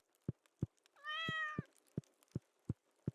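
In Stardew Valley, a single clear cat meow rises mid-clip, surrounded by a regular rhythm of soft low thumps like footsteps or game ticks.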